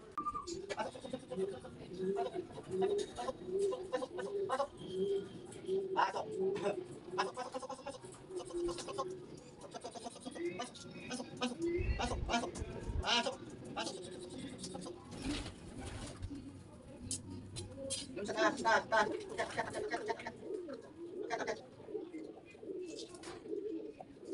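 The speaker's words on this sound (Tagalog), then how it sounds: "Yan, so itong ibon na to, napakabait." A pet pigeon coos softly and repeatedly at close range, with low rhythmic calls running through the scene as someone talks over it.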